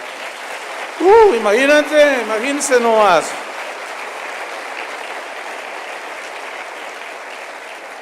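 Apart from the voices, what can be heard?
congregation applause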